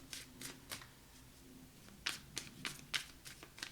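A thick deck of tarot cards is shuffled up close in a quiet room, giving a series of crisp riffling bursts in uneven rhythm, some sharper and louder than others.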